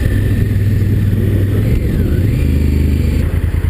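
A 2016 Honda Africa Twin motorcycle engine rumbles loudly and steadily while riding two-up, a deep continuous drone with slight shifts in pitch and no talking.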